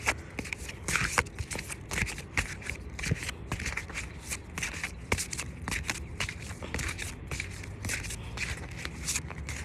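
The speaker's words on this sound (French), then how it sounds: "je vais vous tirer une carte" Tarot cards riffle and flutter in quick, soft bursts, a close, quiet shuffling with light slaps and rustles as cards are drawn.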